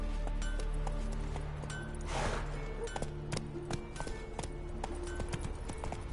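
Roach, Geralt's horse in The Witcher 3 on PS5, gallops in a steady rapid clip-clop of hooves, loud and close, over a low game ambience with a brief whoosh midway.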